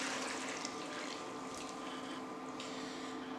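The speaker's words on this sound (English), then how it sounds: "I'm going to take this and I'm going to pour it back into our soup pot." Chicken broth, a ginger-lemon fortified stock, is poured back into a soup pot, giving a steady, continuous liquid rush with a faint hum beneath, close and moderately quiet, with no talking.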